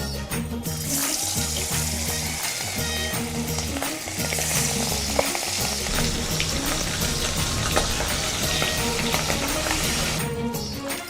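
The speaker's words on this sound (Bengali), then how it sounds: "তেলটাও গরম হয়ে গেছে, এইবার দিয়ে দেবো মাছ।" Marinated tangra fish fry in hot oil, a dense, loud and continuous sizzle close up, with a low rhythmic hum underneath and no voices.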